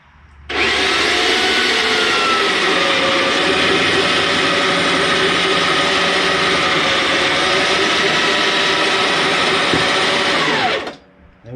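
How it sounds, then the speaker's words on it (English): BEAMNOVA electric 1100 lb overhead lift hoist winch with wireless remote raising a tractor load, a loud continuous motor whine running steadily for about ten seconds and then cutting off. "let's hoist it up and see"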